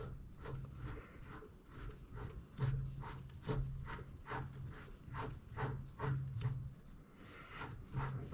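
Thread being cut by hand on a 1/2 inch milling arbor in a workshop, heard as a steady run of close, rhythmic rasping strokes with repeated scraping pulses and no talk.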